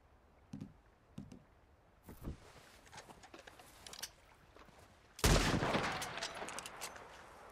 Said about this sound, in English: I was using the, I believe, pump action shotgun with slug round